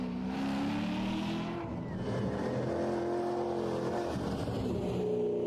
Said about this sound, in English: So Dave completes a solid first lap right here.